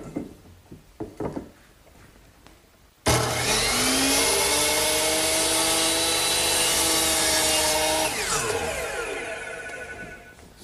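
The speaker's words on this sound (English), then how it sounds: "So I'm going to use my power miter box to make that cut." A power miter saw cuts a 2x4 tenon for a garden bench: a few faint knocks first, then the motor roars to full speed with a loud, sustained whine and rasp through the wood before spinning down.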